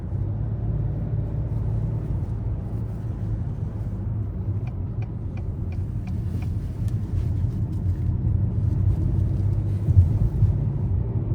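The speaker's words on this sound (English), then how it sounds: "The road noise is pretty much non-existent, as you guys can hear." Steady low road rumble with faint tire noise inside the cabin of a 2023 Acura TLX A Spec while driving, a continuous, even drone with no talking.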